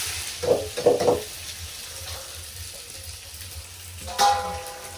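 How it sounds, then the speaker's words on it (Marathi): Mustard seeds, cumin and onion go into hot oil, giving a few short bursts of sizzling and crackling early on, then a quieter hiss with another sharp sizzle near the end. "आता मोहरी टाकायची, आता जिरी टाकायची, नंतर कांदा टाकायचा"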